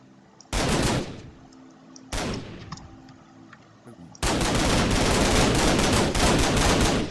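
An M249 machine gun in Minecraft's Flans Mod fires two short loud bursts, then opens up in a long sustained stream of rapid fire that runs to the end.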